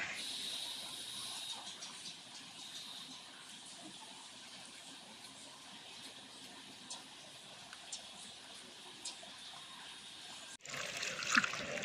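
Water for soaking peeled stink beans runs in a faint, steady trickling hiss, then breaks into a brief louder splashing at the end.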